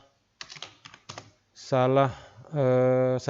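Keystrokes on a computer keyboard while entering text into an Excel spreadsheet, a short burst of clicks followed by a voice speaking over the top.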